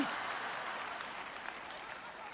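Applause from a church congregation during a sermon, a faint, steady spread of clapping with a few louder claps, heard at a distance.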